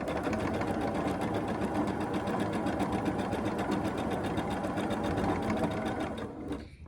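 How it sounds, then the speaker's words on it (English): A sewing machine stitches quilt block fabric a quarter inch from the edge, running steadily with a fast, even mechanical chatter close by, then stopping at the end. "So I'm going to just sew 1/4 inch from the edge."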